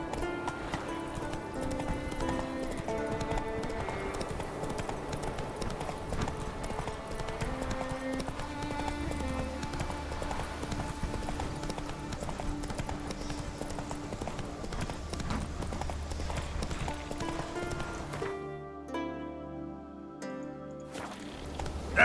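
Steady clip-clop of a horse's hooves trotting in The Witcher 3, carried along under continuous game music before the music cuts out briefly near the end.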